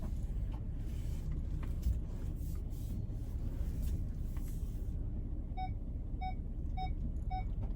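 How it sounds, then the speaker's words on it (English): A vehicle backup camera beeps steadily in four evenly spaced electronic tones, starting partway through as the van approaches a curb, over a constant low engine and road rumble inside the vehicle. "If you hear the beeping from the backup camera, it's just because I'm just approaching a curb"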